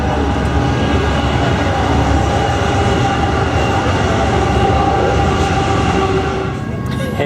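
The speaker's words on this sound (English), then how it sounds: "how often does the train come by here?" A train rumbles past close by in Flagstaff, a loud continuous roar of rolling wheels and rattling cars that holds steady throughout.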